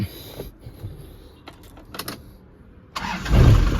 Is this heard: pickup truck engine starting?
yes